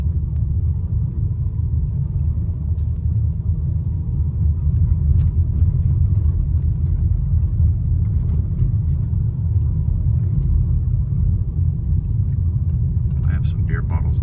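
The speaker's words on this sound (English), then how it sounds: "since I was saying how quiet the W203 is inside, I figured I'd let you hear it over a pretty rough road" Interior of a Mercedes W203 driving over a rough road torn up for new water lines, a steady low rumble of tires and engine with faint thumps, with beer bottles in the trunk.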